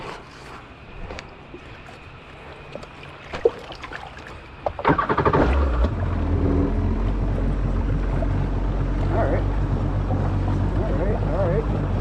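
A Kawasaki SXR 1500 stand-up jet ski engine with a new intake fires up partway through and settles into a loud, steady, low rumble close by, with some wind buffeting.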